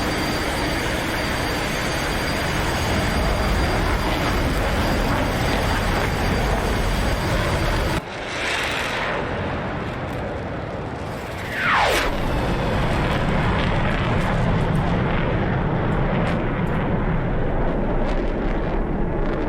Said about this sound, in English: So I've put the afterburners on. We're at full power.